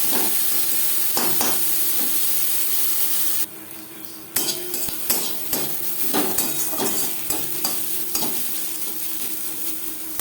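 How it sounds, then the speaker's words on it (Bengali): Onions frying with spices in hot oil, a steady sizzle broken by repeated stirring scrapes and clinks of a spoon against the pan, up close and without talk. "পেঁয়াজ লালচে করে ভেজে নেব"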